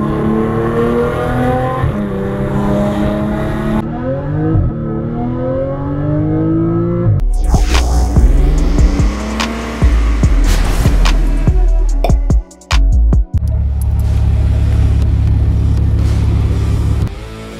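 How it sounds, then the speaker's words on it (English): A supercharged Audi S4 with performance modifications accelerates hard through several gear changes, a rising high-pitched supercharger whine riding over the loud, rumbling revs. "You hear that thing whine, man?"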